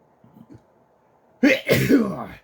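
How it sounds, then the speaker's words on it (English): After a soft murmured sound, a person lets out a loud, close sneeze that trails into a brief exhale. "Gotta sneeze."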